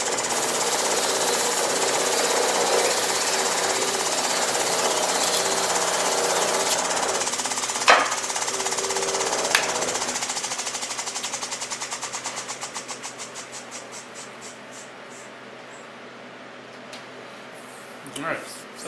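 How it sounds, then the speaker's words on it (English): 800-grit sandpaper pressed against the spinning flex wheel of a Diamond Pacific Titan gem machine, a loud continuous grinding whir that gradually winds down into a slowing rattle as the motor coasts to a stop. "so I grabbed a little 800 sandpaper. You can tell this is off the flex wheel that I have"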